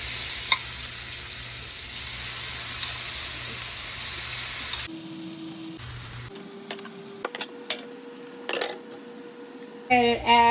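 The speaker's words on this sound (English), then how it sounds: "Go ahead and lay our shrimp in." Shrimp laid into a hot pan for a quick flatbread, sizzling loudly and steadily at first, then giving way to scattered clinks and scrapes of stirring.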